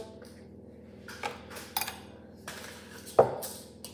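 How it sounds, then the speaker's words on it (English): Scraping cupcake batter from a stand mixer into butter for hazelnut and chocolate cupcakes, heard as scattered scrapes and clinks of a utensil against metal and bowl, with one sharper knock near the end, over a steady low kitchen hum. "trying to scrape basically most of it off the mixer and I'm just going to put it in the butter"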